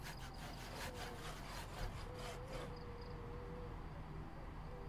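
Logs are sawn in the zombie survival game Project Zomboid, with steady back-and-forth rasping strokes of a saw through wood that repeat for a couple of seconds before stopping, fairly close and alone.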